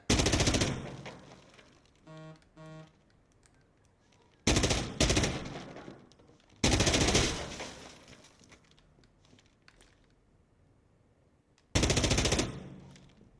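Bursts of gunfire on a shooting range in Insurgency Sandstorm, Operation Resurgence with its new weapons: four loud, sharp volleys separated by quiet gaps, with a short mechanical rattle between the first two.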